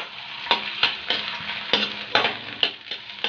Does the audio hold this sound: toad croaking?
no